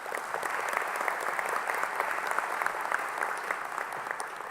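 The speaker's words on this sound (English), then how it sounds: "Could we give him a round of applause?" A crowd applauding steadily at the Global Peace Convention, dense clapping from many hands at moderate distance, sustained evenly.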